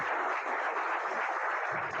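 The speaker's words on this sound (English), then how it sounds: "So nice round of applause for our coaches." A round of applause for the coaches at a town board meeting, steady dense clapping from a room of people lasting throughout, moderately loud and heard without talk.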